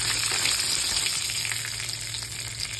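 Radhuni seeds and two bay leaves tempering in hot oil for Bengali sukto, a steady close sizzle and crackle, with no talking.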